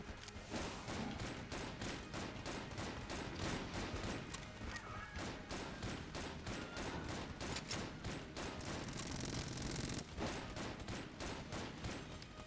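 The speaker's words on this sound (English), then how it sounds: "the serpent that's been by my side this whole time is now assisting the enemy and firing occasional barrages of bullets at me" Rapid, continuous barrages of bullet fire in Enter the Gungeon, a serpent companion turned against the player spraying shots amid constant game effects and music, steady and dense throughout.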